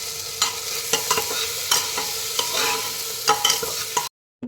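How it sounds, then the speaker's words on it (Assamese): Sambar masala being stirred in a frying pan, a spoon scraping and knocking in repeated strokes over a low sizzle, close up, then an abrupt cutoff near the end. "চাম্বাৰ মছলা দি সেইখিনি মই ভালকৈ লৰাই মেলি দিলোঁ।"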